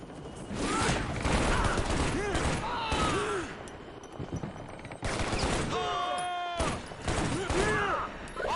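Machine gun fire crackles in rapid bursts in the video game Shadow Ops: Red Mercury, mixed with other battle noise while people talk over it.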